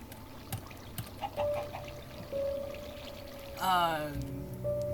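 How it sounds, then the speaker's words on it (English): A water wheel turns in flowing water in the Minecraft Create mod, with a quiet trickling, pouring water sound, soft clicks and tones, and a brief sweeping game sound near the end. "let's look at the water wheel"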